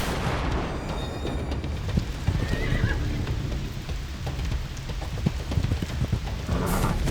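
Horse hooves clatter in a galloping rhythm with a whinny, under heavy rain and rumbling storm noise throughout.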